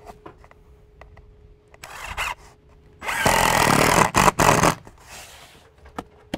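A power drill drives mechanical fasteners into polyurethane soffit trim, with short whirring bursts and then a sustained loud run, close up, amid scattered clicks and handling noise.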